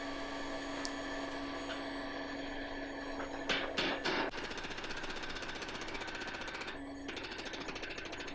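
Rapid, steady mechanical pounding of a power hammer forging rebar into a horseshoe, with a constant electric hum, a few louder metallic strikes breaking through midway.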